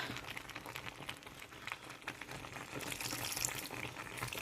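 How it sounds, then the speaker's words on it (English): Water splashes and trickles steadily into a cooking pot of yam porridge, a soft continuous pouring sound with faint clinks, fairly quiet and close. "So I'm going to add a little bit of water."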